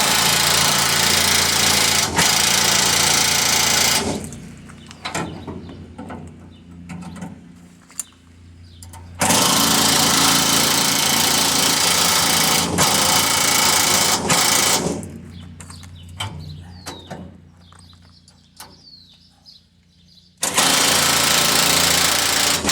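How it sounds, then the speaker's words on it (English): An air ratchet under a 1991 Chevy S-10 pickup zaps trailer hitch nuts in long, loud, buzzing bursts, separated by quieter gaps of clinks and handling noise, with three main runs close to the listener. "Hope I get my air ratchet in there, and I'll zap these bad boys on"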